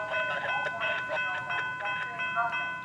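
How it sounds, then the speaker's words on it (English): SunRail commuter train P317 passes at a station in Central Florida, with a steady, fairly loud rumble of rail cars and bright tonal ringing and squealing from the wheels and track. "Sunrail would have their 10 a.m. trains to get by, starting with P317 running on time as usual and picking up a handful of riders here."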